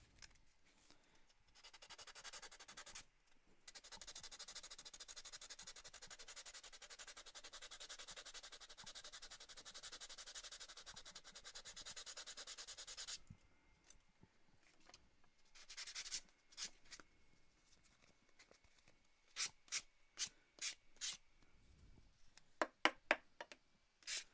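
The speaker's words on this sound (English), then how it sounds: "Going back to sandpaper for a minute." Wood being sanded by hand with sandpaper during a wood-burning craft project: a steady, close rubbing scrape for about ten seconds, then scattered short rubs and light taps after a pause.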